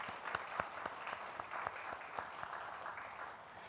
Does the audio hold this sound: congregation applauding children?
yes